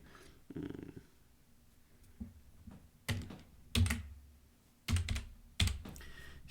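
Typing on a computer keyboard while entering Python list input at a console, a few sharp, separate key clacks spaced irregularly against quiet room noise, close to the microphone and with no talking.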